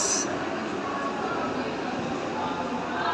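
Steady rumbling noise of a train at Juinagar station, Navi Mumbai, a broad continuous roar with no distinct breaks, fairly loud throughout.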